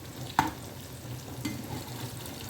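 Onions fry in a pan until golden and crisp, giving a soft, steady sizzle with a couple of faint clinks of a utensil and no talk.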